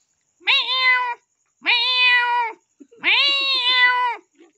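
A person mimics a cat meowing with a mouse in its mouth, giving three clear, drawn-out meows that rise and fall, the last one longest, with silence between them.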